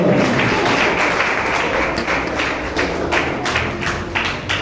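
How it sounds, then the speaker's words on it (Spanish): A church congregation claps its hands, a steady close patter of many hands with slightly uneven bursts that keeps up throughout, with no voices over it. "Vamos a recibirlo con un fuerte aplauso en el amor de Cristo."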